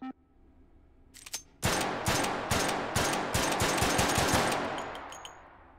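Rapid bursts of gunfire with tracer rounds in the VR shooter Hot Dogs, Horseshoes & Hand Grenades, a fast string of loud, close shots after a couple of brief clicks, with a metallic ring trailing off at the end.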